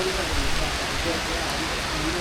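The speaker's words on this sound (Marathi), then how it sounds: "पावसाला जोर आहे कालपासून" Heavy rain pouring down outside a house, a dense, continuous hiss of falling water holding at an even level throughout.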